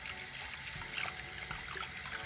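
Water poured onto a paint brush being cleaned on a low budget makes a steady, close trickling splash that runs continuously for about two seconds, with no voices.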